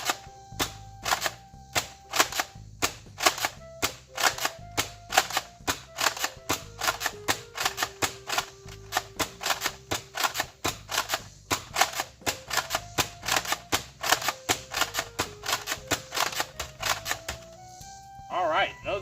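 An X-Shot Insanity Mad Mega Barrel foam dart blaster fires single shots outdoors in a rapid, steady series of sharp mechanical snaps and clacks, each followed by a short pumping rattle, continuing for the whole stretch.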